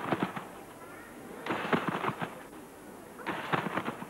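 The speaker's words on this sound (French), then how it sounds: "le bruit que vous percevez, eh bien, c'est l'impact du gymnaste sur ce tissu tendu" A gymnast lands on a stretched trampoline bed during a 1997 competition: three clusters of rapid thumping impacts, separated by quieter gaps, heard at a distance over a faint room murmur.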